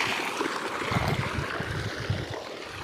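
A farm pump motor sends water gushing steadily into a long field irrigation channel, a continuous rushing, splashing flow heard close and fairly loud throughout, with no talking.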